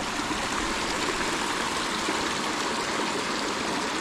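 Runoff from recent rain rushing down toward a large creek, a steady broadband wash of flowing water, close and constant with no voices.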